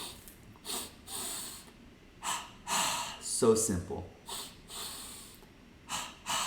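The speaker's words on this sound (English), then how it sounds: "twice inhale through the nose, twice exhale through the mouth" Double breathing kriya: sharp paired inhales through the nose and paired forceful exhales through the mouth, close and loud, repeated in a rhythmic cycle with a person talking briefly between breaths.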